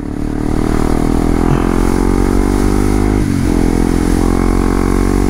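A light sport motorcycle engine revs loud and close, holding a steady rising drone with a brief dip midway, running alone without voices.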